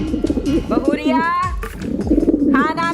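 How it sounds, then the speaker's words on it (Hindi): Pigeons coo in soft, repeated throaty calls from hunger, with voices talking over them throughout. "कबूतर भूख के मारे गुटर गुटर कर रहे हैं, दाना डाल दो।"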